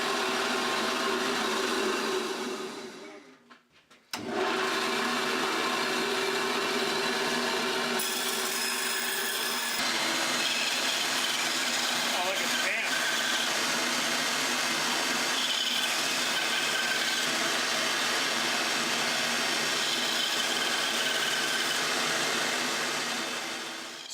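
An old Craftsman band saw runs continuously with a steady, loud mechanical whir and rumble, dipping briefly near the start and then holding an even drone throughout.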